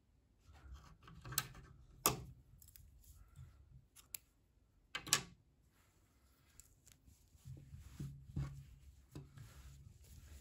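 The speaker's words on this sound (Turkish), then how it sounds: "İpliği kesiyorum." Scissors snip through knitting yarn in a few short, sharp, close cuts, with quiet handling sounds between them.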